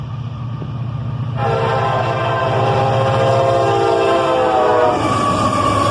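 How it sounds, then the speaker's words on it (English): A CSX northbound manifest freight train led by an SD40-3 rebuild and an AC44CW locomotive rumbles past close by, with a steady loud roll and a long sustained horn blast over the clatter of the cars. "A northbound manifest train, led by an SD40-3 rebuild"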